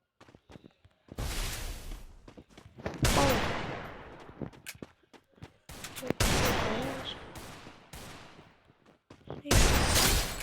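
Gunfire from a shooting video game comes in repeated loud bursts, rapid automatic fire and single sharp shots separated by short pauses, each burst ringing out with echoing tails, close and prominent.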